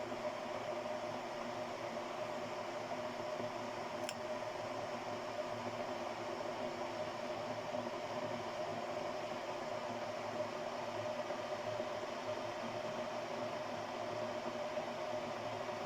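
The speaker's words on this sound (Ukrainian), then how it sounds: "Чайник шумить, але поки що не кипить." An electric kettle holding 1.8 litres of water heats with a steady, even whooshing hum at one level throughout, not yet boiling, with no talking.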